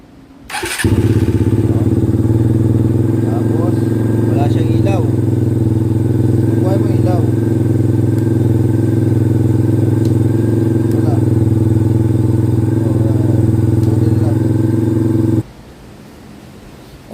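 A small motorcycle in neutral fires up on the electric starter and settles into a loud, steady close-range idle, then cuts off abruptly near the end, with someone speaking over it.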